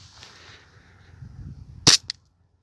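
Airsoft pistol firing a single shot at a PETG plastic test piece printed at 100% infill and 4 mm thick: one sharp crack near the end with a quick second smack, after quiet background.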